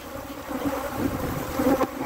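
Honey bees buzz continuously in an outdoor bee yard, a dense, moderately quiet hum with individual bees droning closer now and then.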